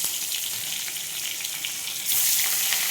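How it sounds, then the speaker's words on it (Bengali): Foloi fish rubbed with salt and turmeric frying in hot oil, a close, dense crackling sizzle that swells louder and brighter partway through, no voices. "অল্প অল্প করে ভাজবো"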